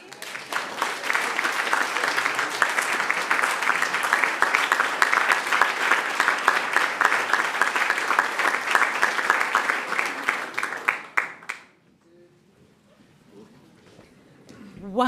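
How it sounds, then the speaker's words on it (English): A group at a climate and education forum claps together loudly and steadily for about eleven seconds, then the applause stops abruptly into near silence with faint voices. "Can we do one? Everyone clapping?"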